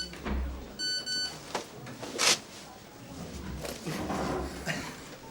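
A mobile phone rings in a busy police station with short repeated electronic beeping tones near the start, amid background chatter and bustle.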